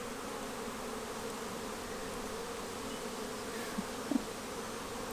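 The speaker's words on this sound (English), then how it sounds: "The buzzing around is so nice. I love bees." Bees buzz steadily around an Australian spring garden, a soft continuous drone of several insects at moderate distance, with a couple of faint brief knocks.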